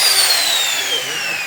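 A handheld trimmer router cuts along the edge of a kitchen workpiece with a loud, steady high-pitched whine that drifts slightly lower as it bites into the material, close by and continuous.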